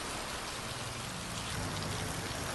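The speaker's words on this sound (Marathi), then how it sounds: "अनेक भागात सोसाट्याच्या वाऱ्यासह पाऊस बरसलाय." Heavy unseasonal pre-monsoon rain driven by strong winds pours down in a dense, even roar of drops, constant and enveloping with no voices.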